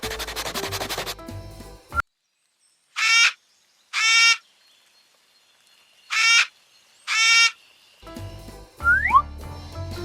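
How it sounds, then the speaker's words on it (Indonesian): Parrots chirp in four short, bright, clear calls, spaced in two pairs across a quiet stretch, with other sounds at the start and end. "8 burung kakak tua berkicau"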